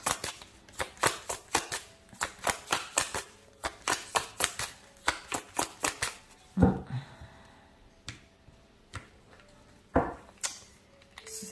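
Tarot cards are handled, shuffled and drawn, with a quick run of sharp, close card flicks and snaps followed by sparser single slaps and rustles.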